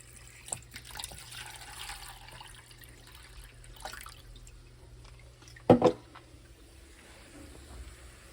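Tap water runs quietly while purified water is made at home, with a soft trickle and splash and one brief louder spill near the end.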